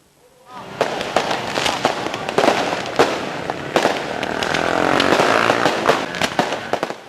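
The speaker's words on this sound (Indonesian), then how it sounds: "Ratusan kembang api meluncur beriringan di tengah kegembiraan." Dense New Year's fireworks crackle and pop continuously at the Tugu Lampung Utara monument in Kotabumi, Indonesia, with sharp bursts over a rumbling wash and a busy crowd murmuring underneath.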